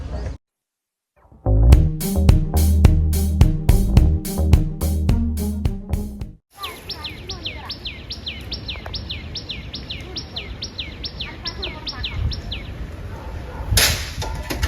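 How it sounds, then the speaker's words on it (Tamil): After a burst of loud rhythmic thumping, a bird at a house construction site at the ground-level beam stage gives a long, evenly spaced series of sharp chirps against a quiet background. "அந்த பறவையின் ஒலியோட பிளஸ்ஸிங்கோட இந்த வீடியோ நம்ம பார்க்கலாம்"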